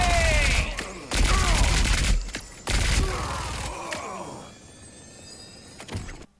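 Elemental guns firing in the Marvel Rivals video game: loud bursts of blasts in quick succession, broken by short gaps, with mechanical clicks and whooshing effects, then fading to quieter tones near the end.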